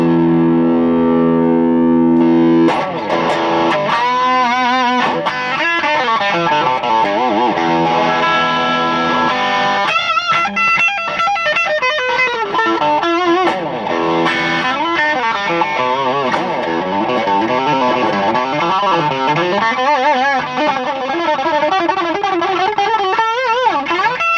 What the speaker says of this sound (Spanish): Lo que hace es que le da fuerza a la distorsión